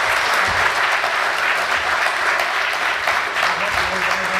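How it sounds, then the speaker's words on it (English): Sustained audience applause from a crowd at an FBI field office anniversary event in Las Vegas, dense and steady throughout with no gaps. "let's have a round of applause for our group"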